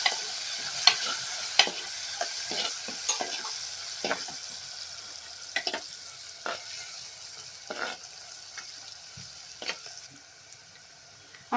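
A spoon steadily stirring and scraping spring onion greens into Khandeshi eggplant bharit frying in oil, with soft sizzling underneath and repeated close, sharp clinks of the utensil against the pan, and no voices.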